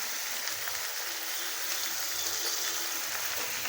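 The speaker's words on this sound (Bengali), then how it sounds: "ওলটাকে মিডিয়াম ফ্লেমে খুব ভালো করে ভেজে নেব।" Chunks of elephant foot yam, salted, fry in a pan over a medium flame, giving a steady, dense crackling sizzle that stays even and close throughout with no voices.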